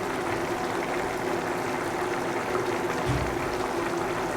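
Pumpkin, yogurt, turmeric and salt mixture bubbling in a pan, a steady close simmering hiss with soft gurgles throughout, with no talking.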